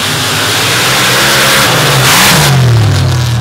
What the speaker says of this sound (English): he's running an awful lot of fuel through that engine